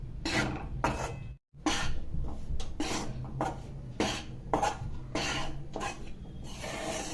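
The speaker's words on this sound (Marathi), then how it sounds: "परतून परतून असं हलवीत राहायचं सारखं सारखं" Wheat flour roasting in a heavy-bottomed pan, stirred continuously: a run of close, rhythmic scraping strokes of the spoon against the pan, with one brief pause partway through.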